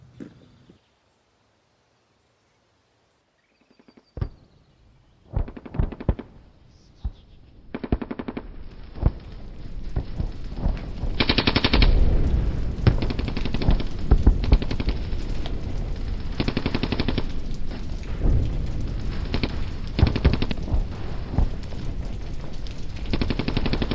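Machine gun fire in a war film: after near silence and a single sharp shot, sustained loud automatic bursts roll on, dense and continuous with rapid repeated cracks and rumble, no voices audible.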